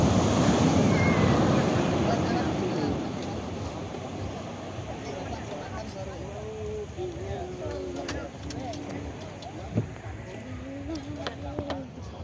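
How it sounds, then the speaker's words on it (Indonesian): High year-end surf at Kedonganan beach in Bali roars and washes in, loudest at first and then settling into a steady rumble, with wind buffeting the microphone and faint voices underneath. "Ombaknya sangat tinggi"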